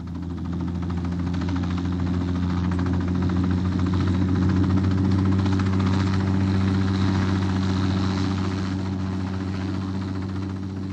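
Helicopter engine at Annecy aerodrome, a steady, loud, low droning hum with strong even tones and a faint whirring overlay, continuous throughout with no voices.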